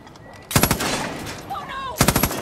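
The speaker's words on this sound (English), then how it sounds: "Shooting!" Two loud bursts of rapid automatic gunfire in the video game Far Cry New Dawn, close and sharp, separated by a stretch of lingering noise with a faint tonal chirp between them.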